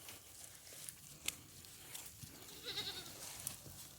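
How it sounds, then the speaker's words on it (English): Goats on a small country farm bleat a few times at close range, short calls breaking through a quiet outdoor background with light rustling and movement. "I have so many goats right now."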